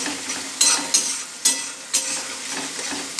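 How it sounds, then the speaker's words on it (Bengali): Chilli egg sauce stirred in a frying pan: a low sizzle beneath about six sharp, scraping spatula strokes at uneven intervals, close and clear. "এবার সসটা ভালো করে নেড়ে নিলাম।"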